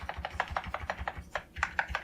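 Space bar on an MSI Strike Pro full-size mechanical gaming keyboard with Kailh Midnight Pro Silent Tactile switches, pressed over and over in a quick, even rhythm, each stroke a soft, muffled, dampened click, close and fairly quiet.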